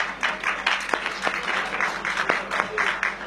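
An audience breaks into steady applause at a gathering, a dense wash of many hands clapping together, moderately loud and sustained for a few seconds without speech.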